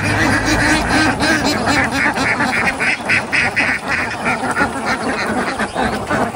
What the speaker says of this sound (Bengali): আমাদের আগের হাঁসগুলো সহ 160টার মতো হাঁস অলটোগেদার